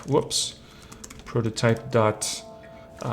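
Computer keyboard typing in bursts of quick, close clicks and clacks, with short pauses between groups of keystrokes and a faint voice in places.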